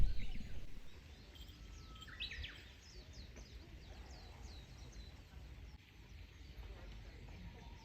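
Faint birdsong chirps and trills drift in from a distance over a low outdoor rumble, with a louder scrape at the start, in a garden in Kyoto in the morning.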